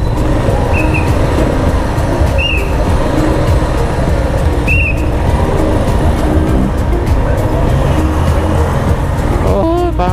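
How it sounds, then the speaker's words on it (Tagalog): Dense road traffic of cars, buses and motorcycles weaving through a jam, a loud steady engine roar with a few short horn beeps scattered through it. "Traffic pala."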